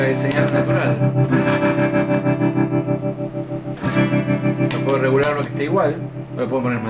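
Electric guitar chords through a tremolo pedal with the effect level matched to the natural signal, the sound throbbing in a steady rapid pulse throughout.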